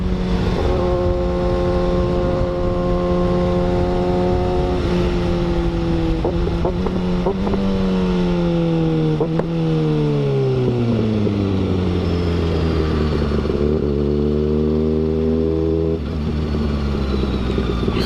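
A 2015 Kawasaki Ninja ZX-6R 636 engine sings close and loud while riding on a cold day, with its pitch climbing and falling through revs and gear changes, ending in a long deceleration and renewed pull.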